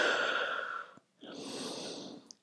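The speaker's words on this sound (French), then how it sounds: "2 ou 3 respirations." Deep breathing during the yoga child's pose: a long, close exhale, a brief pause, then another slow breath, soft and with no talk.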